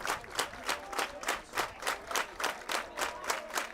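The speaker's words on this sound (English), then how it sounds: "The claps from the Trojan faithful." Trojan fans in the stands at a high school baseball state tournament clap in a slow, steady unison rhythm, about three claps per second, each one crisp and moderately loud.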